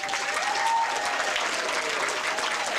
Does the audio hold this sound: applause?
yes